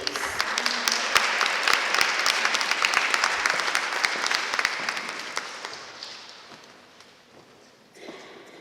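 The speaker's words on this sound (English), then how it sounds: "Can we please give her a round of applause?" An audience at a book launch celebrating young writers applauds in a dense, sustained burst with sharp individual claps throughout, fading after several seconds before a brief stir at the end.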